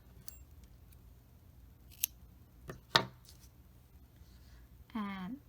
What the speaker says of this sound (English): now we can cut the yarn here